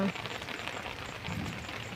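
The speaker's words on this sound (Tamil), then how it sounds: "எங்கள் ஊரில் இப்போ மழை பெஞ்சிட்ருக்குது" Rain pattering steadily across a home vegetable garden with tomato, brinjal and chilli plants, a soft continuous hiss of drops at moderate volume, with a voice speaking faintly alongside.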